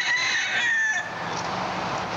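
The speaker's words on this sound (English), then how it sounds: "Listen to the rooster crowing." A rooster crows on a farm, one drawn-out crow in the first second followed by a rougher, fading tail, fairly clear against a quiet outdoor background.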